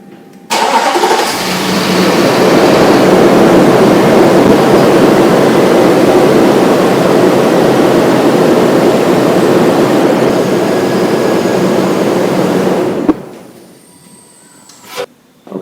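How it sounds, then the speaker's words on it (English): A Chrysler Town & Country engine cranks and catches, then runs loud and steady at idle for about twelve seconds before cutting off abruptly, leaving quiet with faint handling noise. "So here I go, start my vehicles up."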